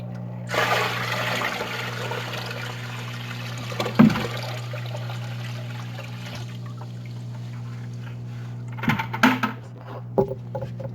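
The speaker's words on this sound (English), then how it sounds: "And then down here, I can now fill up the sump as far as I want to." Water pours steadily into an aquarium sump below a hang-on-back overflow, a continuous close trickle and splash over a constant low hum, with a few sharper splashes and clinks near the start and end.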